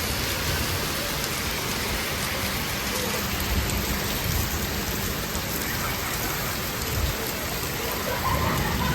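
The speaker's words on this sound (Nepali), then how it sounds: "पानीलाई हावाले कस्तो उडायो" Heavy rain driven by wind roars as a dense, continuous wash of noise, loud and unbroken from start to finish, with no voices.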